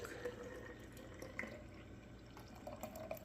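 Raw milk poured into a measuring cup makes a soft, quiet liquid trickle with a few faint drips, close by and without talk.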